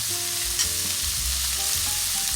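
A spoon scrapes and stirs a sizzling cheeseburger casserole mixture with beef bouillon, red pepper flakes and Worcestershire sauce. The stirring is steady and continuous over a close, loud background of frying with no talking.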